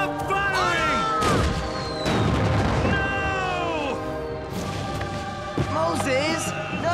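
Cannon fire in an animated Revolutionary War battle at Yorktown: loud booming blasts and crashes repeat across the scene, mixed with shouting voices and other battle noise.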